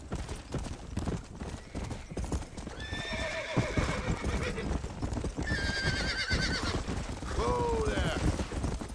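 Horses in the Red Dead Redemption western game clip-clop steadily on the ground and let out several loud, shrill neighs and whinnies, with a low rumble running underneath.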